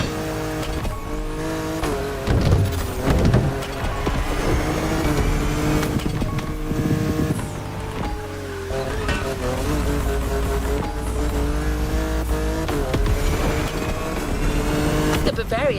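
A BMW Z4 M40i roadster drives in the racing game The Crew Motorfest, its engine revving and shifting through gears, with occasional tire squeal under steady narration.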